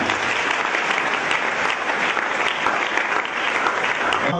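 A church congregation at a worship service breaks into sustained applause, a thick, even wash of many hands clapping at steady loudness with no break.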